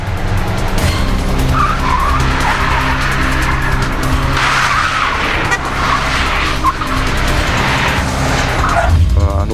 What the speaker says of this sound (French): ces deux véhicules qui vont se mettre en vrille sans toucher le muret central